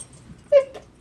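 Puppies give a short whimper, a single rising whine near the mic, alone against a quiet room.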